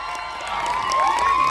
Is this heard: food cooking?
no